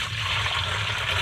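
Liquid pours steadily into a 5 gallon bucket on a porch, a continuous close rushing gush with no voices.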